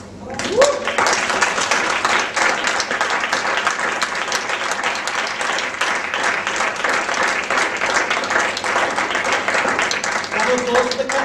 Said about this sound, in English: Applause for the Kettle.